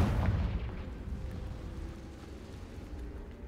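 A Confringo fire spell explodes in the Hogwarts Legacy video game, a loud booming blast at the start whose low rumble slowly fades over a few seconds, with no talking.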